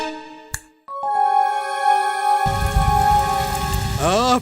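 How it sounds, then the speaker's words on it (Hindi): Steady hissing rain pours down, joined by a bright electronic melody that starts just before and plays over it to the end. "पानी बरस रहा है।"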